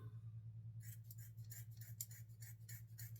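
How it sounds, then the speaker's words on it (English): Scissors snip through synthetic wig hair in a quick series of sharp, close cuts. A low steady hum sits beneath the snipping. "Oh, these scissors might not be all that great."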